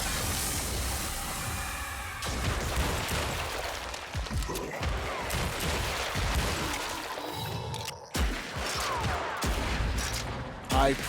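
Buckshot pistol fire in the Project Warlock II video game, with repeated loud blasts and crashing impacts over a busy, dense game soundscape.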